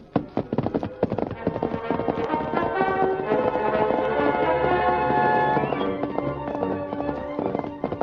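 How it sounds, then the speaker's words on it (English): Horse hooves gallop in a fast, rapid clatter, loud and close, with dense rhythmic pounding that fades slightly toward the end. "Leaving Tonto on guard, the Lone Ranger set out in the darkness on his great horse, Silver."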